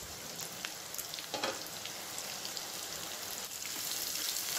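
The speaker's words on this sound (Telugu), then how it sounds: "ఇప్పుడు ఈ ఆనియన్స్ని వేసేసుకొని మంచి కలర్ వచ్చేంత వరకు వేయించుకోవాలి." Onions frying in oil in a pan for egg dum biryani, a soft, steady crackling sizzle heard close and alone throughout, with a brief louder burst of spatter near the start.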